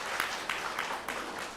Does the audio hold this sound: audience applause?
yes